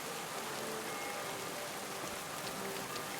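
Steady rainfall in the medieval game Kingdom Come: Deliverance II, a dense, even hiss of drops pattering on surfaces, constant and fairly loud with no voices over it.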